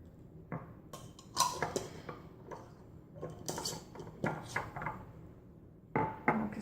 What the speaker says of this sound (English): I'm just going to mix it a little bit.